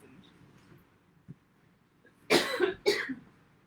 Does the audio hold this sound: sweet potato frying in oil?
no